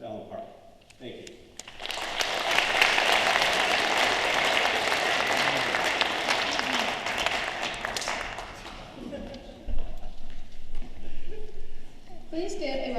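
An audience at a high school meet-the-candidate night in Allen Park applauds city council candidates; after a brief voice, dense clapping swells and holds for several seconds, dips, then continues with murmuring and a voice beneath it.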